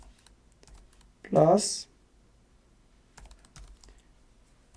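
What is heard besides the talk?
typing on a computer keyboard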